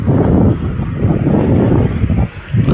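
Steady wind buffeting the microphone, a broad low rumble that stays loud almost throughout with a brief dip near the end.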